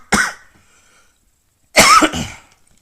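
Two harsh coughs from a man with acid reflux, a short single bark followed after a pause by a louder, longer double cough, close and dry against silence.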